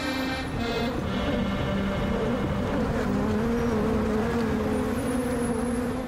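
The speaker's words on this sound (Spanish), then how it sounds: "Y el apicultor, Jean Pocton, cuida a sus abejas en uno de los lugares más prestigiosos de la ciudad" Honeybees buzz around rooftop hives on the Paris Opera, a continuous steady droning hum with a faint wash of city traffic beneath it.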